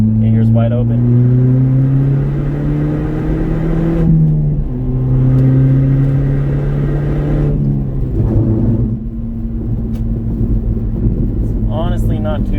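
Straight-piped Ford Fiesta ST accelerating wide open on a freeway, a loud droning exhaust climbing in pitch through successive gears with brief dips at each shift, steady road roar underneath.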